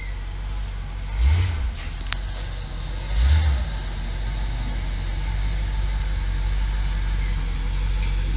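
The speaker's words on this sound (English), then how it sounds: "Craig's big Chevy 59 Apache." A 1959 Chevy Apache truck idles at a car show, its low V8 rumble steady and close, with two short revving blips swelling above the idle before it settles back.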